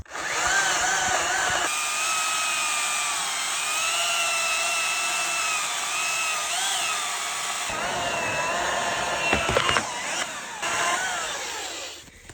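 Close and loud, a battery-powered chainsaw runs on speed setting 2, cutting through wood with a sustained high electric whine that sags under load. Near the end it stops and starts again in short bursts.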